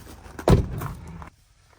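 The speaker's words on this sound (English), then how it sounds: "I'm gonna close that door and see how it sounds" A single solid thump of a pickup truck door shutting up close, a sharp low-heavy slam with a short rumble that cuts off abruptly into near silence.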